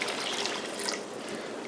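Half a cup of water poured into a pot of cooking Pakistani chicken biryani, a short steady trickle and splash with bright liquid hiss, close and fairly quiet, no talking.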